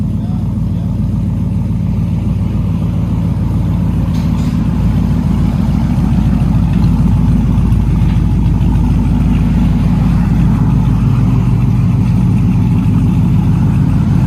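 A cammed 6.0L V8 Chevy work van with true dual exhaust idles loud and close, a deep, steady, lumpy rumble with a choppy lope throughout and no pauses.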